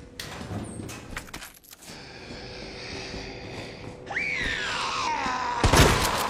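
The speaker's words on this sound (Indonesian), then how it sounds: "Serem banget suara teriakannya" Screams and wailing cries from a zombie video game, a rising-and-falling shriek after a low groaning stretch, loud and close, ending in a harsh burst.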